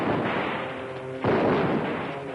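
Gunshots ring out in a shootout at a cabin in 1940s Alaska, two booming reports about a second apart with long echoing tails.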